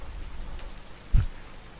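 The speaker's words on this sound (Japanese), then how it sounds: "雨やね" Rain falling, a steady soft hiss of drops throughout with a brief low thump near the end, faint and continuous with no voices.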